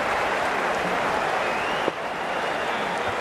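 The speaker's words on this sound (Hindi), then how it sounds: "दर्शक में तालियां ही तालियां गूंजती हुई" Steady, dense applause from a large cricket crowd during an India vs South Africa T20 match fills the whole stretch, a continuous wash of clapping with no break.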